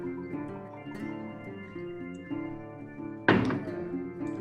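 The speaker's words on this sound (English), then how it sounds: "I'm just gonna pop it open. I love the little" A sharp pop bursts out at about three seconds in as a cork is pulled from a whiskey bottle, over a steady bed of background music.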